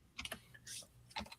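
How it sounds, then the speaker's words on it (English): Faint computer keyboard keys clatter in a few soft, irregular clusters as a cat lies across the keyboard, close but very quiet. "The cat is laying on the damn keyboard."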